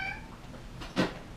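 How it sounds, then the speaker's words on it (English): A pet cat named Billy Ocean gives a single short, faint meow indoors, rising briefly and fading within about a second. "That's my cat"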